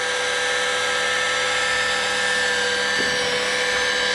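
A dual action polisher runs continuously with a steady, loud, high-pitched mechanical whine and no breaks.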